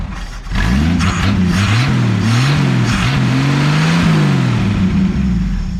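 A loud V8-style revving comes from a 1964 Chevrolet Biscayne brought back after two decades sitting, with its exhaust rising and falling through several strong throttle blips, close up and alone for several seconds.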